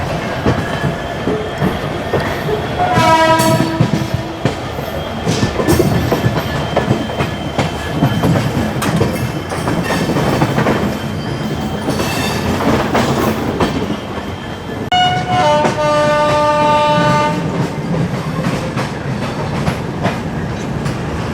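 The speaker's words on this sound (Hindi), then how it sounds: "ट्रेन का डिपार्चर का टाइम हो ही गया" Mumbai–Chennai Express passenger train departing Mumbai, heard from inside a 3AC coach: steady loud rolling rumble with rhythmic clickety-clack of wheels over rail joints, punctuated by tonal horn-like whistles and squeals, no talking.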